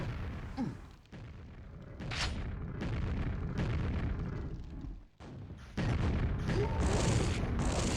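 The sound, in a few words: rocket explosions in QuakeWorld video game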